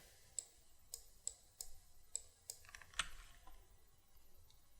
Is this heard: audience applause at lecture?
no